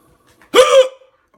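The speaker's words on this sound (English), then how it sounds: "I'm gonna throw up if I keep hiccuping like this." A single sharp human hiccup, loud and close, a quick voiced catch lasting under half a second in an otherwise quiet room.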